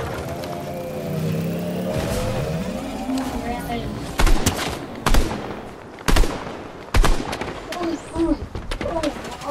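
Fortnite gunfire pops in several sharp bursts amid a busy mix of game effects and music, with a voice talking throughout.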